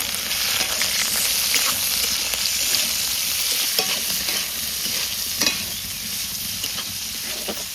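Sliced onion, Kashmiri chilli and green chilli sizzle steadily in hot oil tempered with whole garam masala and bay leaf, a dense close-up frying hiss with scattered pops and the scrape of stirring.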